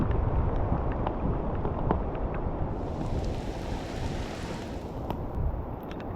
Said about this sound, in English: Still pouring down the rain